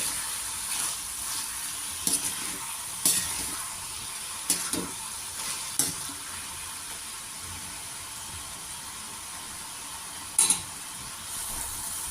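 Ridge gourd palya sizzles and fries in a pan while it is stirred, a steady hiss underneath with several sharp scraping stirs spread through the stretch.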